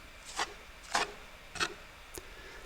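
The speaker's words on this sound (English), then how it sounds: "I'm taking some of that plaster they used on the drywall mudding and filling in all the gaps" Drywall plaster is spread with a tool to fill the gaps between LVL beams, heard as four separate soft scraping strokes spaced about half a second apart, quiet and close, with no talking.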